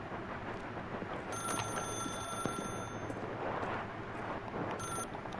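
Telephone ringing in The Stanley Parable, Room 417: a faint, thin electronic ring in two bursts above a steady hissing background.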